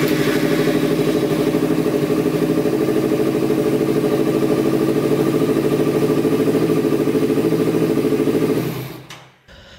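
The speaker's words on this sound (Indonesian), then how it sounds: "Starting the engine." A motorcycle engine started with a fingerprint-sensor ignition runs at a steady idle, loud and close with a constant rumble, then cuts off abruptly near the end.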